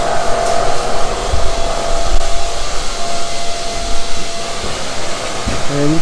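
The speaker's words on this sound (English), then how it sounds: "busy construction site." Steady loud broadband roar of a busy construction site building a house in the Philippines, machinery drone throughout with faint tonal whines and thumps, close and continuous.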